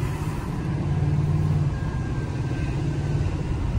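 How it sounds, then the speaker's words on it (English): Inside a diesel truck while driving, a steady low engine drone with a faint high turbo whistle rising briefly over the road noise. "I like the turbo sound."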